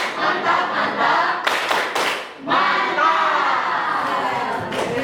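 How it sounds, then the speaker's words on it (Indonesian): A classroom of students performing the rhythmic 'tepuk mantap' clap in unison, dense close hand claps in bursts with brief pauses, filling the room with a crowd of voices mixed in. "Tepuk mantap."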